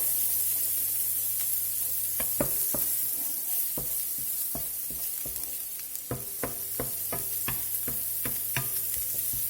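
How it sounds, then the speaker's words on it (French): Shallots browning in a pan give off a soft, steady sizzle, broken by scattered sharp clicks and taps of stirring, fairly quiet and without voices. "Vous faites colorer vos échalotes."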